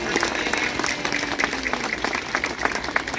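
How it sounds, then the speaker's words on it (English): Audience at a sea lion feeding and training show at the Vancouver Aquarium claps, fairly faint scattered applause with distinct individual claps over a background hum and a distant voice. "Can we give Nigel and all the other amazing people here a big round of applause?"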